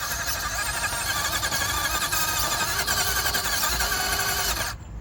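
An RC rock crawler on Injora 72mm XhX Pins tires gives a continuous high electric motor whine as its wheels spin hard for grip, loud and close, then cuts off abruptly near the end.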